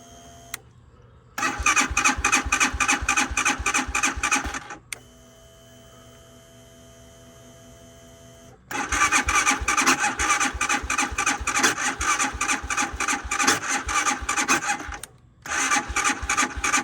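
A Hawk DLX engine in cold weather at 10°F (-12°C) gives loud, rapid, rattling bursts of engine noise. A quieter lull separates them, then a longer stretch of running, a brief drop and another burst.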